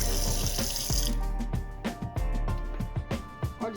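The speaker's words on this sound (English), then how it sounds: "Rinse it off. No, rinse the potato off." Running tap water splashes steadily into a sink while a potato is rinsed under the cool stream, with irregular splattering changes in the flow.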